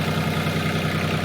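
A Kioti tractor engine runs at a steady idle, a loud, even low rumble with a regular throb and no speech.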